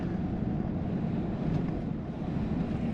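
A steady, loud roar of wind rushes through an open car window while driving, with low rumbling buffeting that carries evenly throughout.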